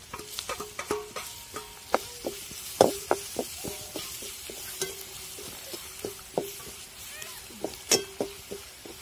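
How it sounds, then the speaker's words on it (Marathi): Onion being sautéed in spiced masala for a Maharashtrian dal vada curry, with a spoon repeatedly stirring and scraping the pan in short irregular strokes over a faint sizzle. "कांदा 1 मिनिटभर याच्यात परतून द्यायचा"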